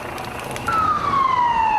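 A loud police siren wails during the 2011 riots on Birmingham streets, its tone sliding slowly downward as it sounds steadily over a noisy street background.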